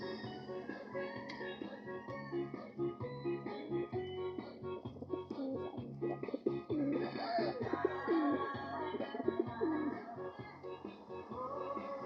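Four pigeons coo in soft, repeated phrases close by, with faint shuffling and rustling under the calls and no talk.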